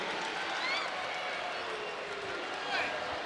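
Home crowd at a Notre Dame women's college basketball game against Virginia reacting to an offensive foul call, a broad steady murmur and rumble of spectators with faint sneaker squeaks, continuous and moderately loud throughout.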